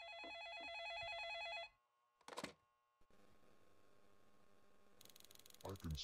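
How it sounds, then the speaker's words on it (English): Telephone ringing in a Roblox horror game, an electronic warbling ring repeating steadily for under two seconds before cutting off, followed by thuds and a low hum. "Someone's calling. It must be my parents checking in on me."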